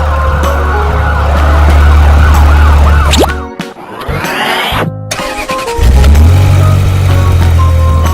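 A toy-style red fire truck siren wails loud and close over a low engine rumble, with a rising whoosh in the middle before the siren and engine return.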